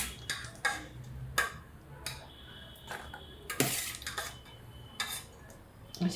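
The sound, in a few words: soybean chunks being taken out into a colander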